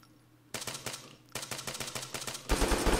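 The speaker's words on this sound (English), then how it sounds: "These guys are just spamming the shots." Rapid bursts of automatic gunfire from the shooter game Project Argo crackle in several dense volleys, the last and loudest run coming near the end, with no talking over them.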